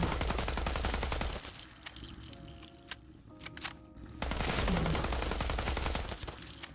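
A service rifle fires on full auto in Fallout 4, a rapid stream of gunshots that thins out briefly in the middle before another sustained burst, with no voices.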